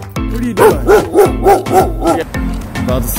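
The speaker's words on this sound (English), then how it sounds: "Oh, dogs are angry again." Several agitated dogs bark loudly and close by in a quick run of about six or seven deep woofs, with a low steady rumble beneath and no talking.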